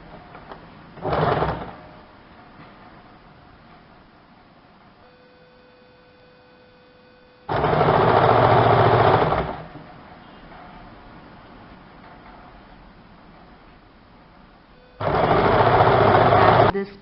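Sewing machine stitching the edges of a salwar: three separate bursts of fast, whirring mechanical stitching, the first short and the others about two seconds each, close and loud with a quiet hum between.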